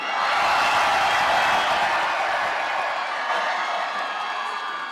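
A large crowd at the Pro A 2025 final yells and screams together at full volume, a sustained roar that slowly tapers over several seconds.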